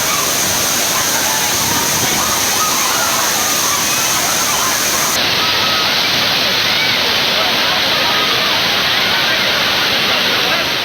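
Roaring waterfall at Thirparappu falls in Kanyakumari district, a loud, constant broadband rush of falling water with no break throughout.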